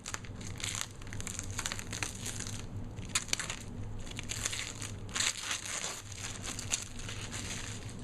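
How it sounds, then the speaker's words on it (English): Plastic wrapping is crinkled and peeled off a new HP USB media docking station speaker system: close, irregular crackling and crumpling bursts for about eight seconds, with no voices. "Let's get this plastic off here so you can see it."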